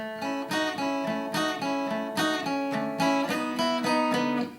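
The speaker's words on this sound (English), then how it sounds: "Okay, or you could play it slightly messier" Open G tuned guitar strummed a bit more loosely through a chord passage, bright ringing strokes in an even rhythm, close and solo without talk.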